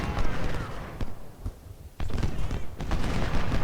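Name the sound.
musket volley fire in video game Ultimate General: Civil War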